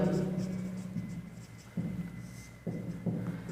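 Writing strokes on a surface during a physics lesson on gas volume and states of matter, with soft scratchy marks in a few separate bursts over a steady low hum.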